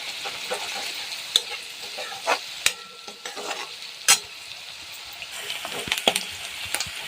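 Chopped onion fries in a pan for matki bhaji, a soft continuous sizzle with scattered clinks and scrapes of a spoon stirring, close and fairly quiet, without speech.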